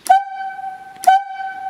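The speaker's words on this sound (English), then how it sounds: "he would lift this up and squeeze it once, and there you go, you got whistles" A Talkie Tooter logging whistle signal sounds two sharp, loud whistle blasts about a second apart, each a clear steady tone that sustains until the next, with no voices.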